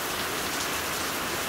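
Heavy rain drums on a vehicle in a steady, dense hiss that stays loud and unbroken throughout, with no voices.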